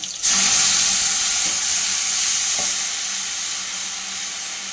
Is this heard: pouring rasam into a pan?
yes